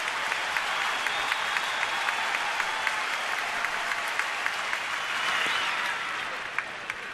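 Steady crowd roar and cheering fill a ballpark during a Phillies at Nationals baseball game in Washington, a continuous wash of voices with scattered claps that swells slightly near the end.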